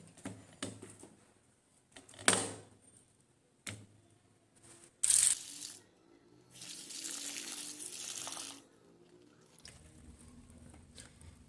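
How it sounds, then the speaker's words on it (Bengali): Tap water gushes into a sink while onions and garlic are washed, with brief splashes and patters, then a longer steady run of flowing water, all fairly quiet and close, with no talk. "পেঁয়াজটাকে ধুয়ে নিলাম, পেঁয়াজ রসুনটাকে"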